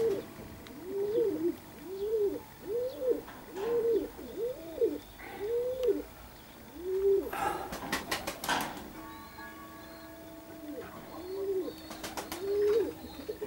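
Domestic pigeons in Perm give a run of soft, repeated throaty coos, close by, with short pauses between calls. A few sharp clicks or flutters break in midway, and fainter coos carry on afterwards.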